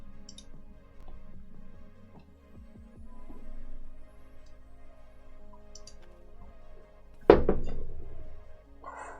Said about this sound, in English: There's the cannon.